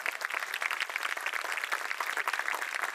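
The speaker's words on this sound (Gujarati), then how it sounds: "એને આ ટીચર લોકો માટે જોરદાર તાળી પાડવા" An audience claps for teachers at a school annual meet, giving continuous, dense applause from many hands throughout.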